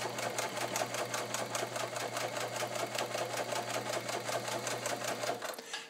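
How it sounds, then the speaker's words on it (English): A vintage Kenmore 158.1750 sewing machine with a 1.2 amp motor stitching through leather, a fast, steady mechanical chatter with a constant motor hum that stops abruptly at the end. "So as you can see, the machine, a vintage machine with this kind of power, does not mind sewing leather for you."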